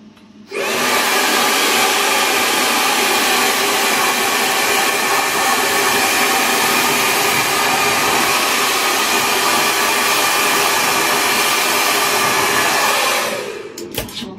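A GHD Helios hair dryer switches on and blows with a loud, steady, broadband whoosh for about thirteen seconds before cutting off, heard close up with no voices.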